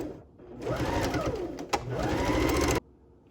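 A sewing machine stitches pant fabric in a steady close whir, with a brief click midway as it reverses to backstitch, then runs on before stopping abruptly.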